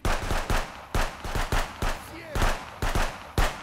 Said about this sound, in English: I could just mag dump these motherfuckers.